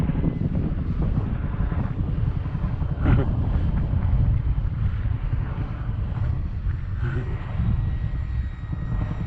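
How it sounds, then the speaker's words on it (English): Steady wind roars and buffets a microphone outdoors on a breezy day, a continuous broadband rush with gusts swelling and easing while a small E-flite Night Timber X model plane flies overhead, no talking. "It's just a breezy day."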